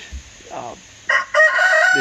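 A rooster crows loudly and close by, its harmonic call rising after a brief softer sound and holding strong to the end.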